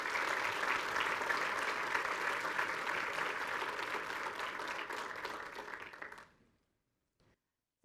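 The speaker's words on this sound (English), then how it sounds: "Let's give them a round of applause." A council chamber audience applauds steadily for about six seconds during a mayoral transition meeting, a dense wash of many hands clapping that fades out to near silence.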